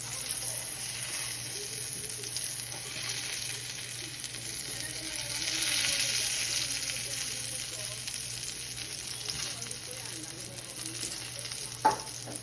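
Eggplant frying in a pan, a steady close sizzle and crackle of oil that swells briefly midway, with one small knock near the end.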